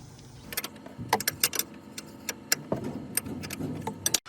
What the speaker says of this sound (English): then we can go ahead and remove these two bolts on both sides of the bracket. It is a 15/16 wrench.